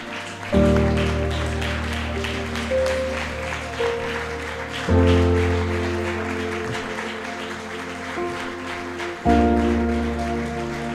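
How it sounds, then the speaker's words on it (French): An audience at a church gathering rises and applauds its actors, a dense wash of many hands clapping steadily over sustained organ-like music chords that shift every few seconds. "On peut quand même se lever pour applaudir pour nos acteurs."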